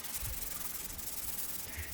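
Hand sanding of a Firebird-style guitar kit body with 220 grit sandpaper gives a continuous soft, even rubbing hiss, faint and close, with no talk over it.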